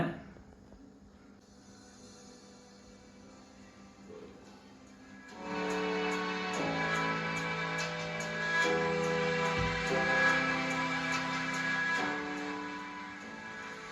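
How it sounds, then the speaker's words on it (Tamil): Music starts after a few seconds of quiet hiss, playing steadily at moderate volume from a small homemade Bluetooth speaker nearby. "இப்போ நான் ஏதாவது ஒரு மியூசிக் போடுறேன் பாருங்க"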